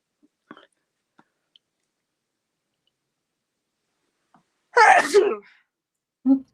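A single loud sneeze bursts out after near silence with a few faint clicks, followed by a short breathy sniff or exhale.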